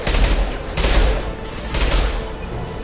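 Rifle gunfire rattles through a Mass Effect 2 firefight, loud bursts of rapid shots arriving in several clusters separated by brief lulls, with a booming low end.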